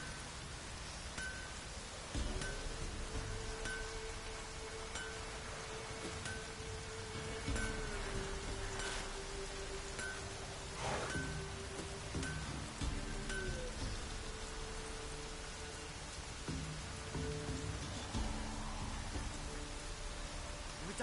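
Heavy, unbroken rainfall in The Witcher game world, a loud broadband hiss of drops pattering on surfaces, with a low sustained tone and a faint distant rumble running beneath the downpour.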